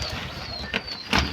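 Pigeons in a rooftop loft where turkeys and rabbits are also kept, with a soft, steady ambient hum of birds and two brief louder bursts that may be cooing or wing flaps, fairly close.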